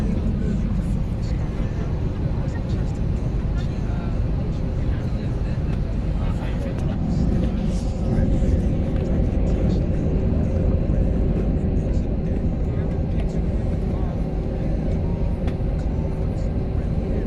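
Inside an airplane cabin as the plane starts moving, a steady loud low engine rumble and cabin drone continue without a break, with no one talking.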